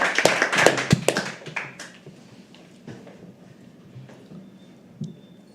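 Audience applause at a live poetry open mic, dense and energetic at first, then thinning out into scattered individual claps and a few stray taps as the room quiets.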